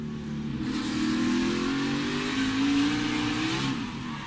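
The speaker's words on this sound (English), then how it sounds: "Riding along, you listen to the throttle." NASCAR race car at Martinsville during the 2017 First Data 500, its engine revving and rising in pitch through two throttle surges, loud and close with a broad, steady roar and no talk over it.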